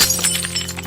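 A drinking glass drops to the floor and shatters, a close, brief burst of breaking and clinking fragments over a steady low hum.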